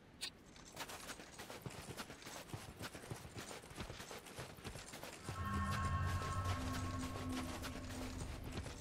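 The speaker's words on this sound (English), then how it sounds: "I'm listening for horse." Horse hooves clop in a steady rapid rhythm in the game Dark Souls 2: Scholar of the First Sin, fairly loud and close, with a low droning tone and music swelling in partway through.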